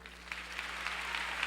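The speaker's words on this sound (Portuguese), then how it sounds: "Aplauda Ele," A church congregation applauds during an evening youth service, a soft, continuous patter of many hands clapping, faint and somewhat distant.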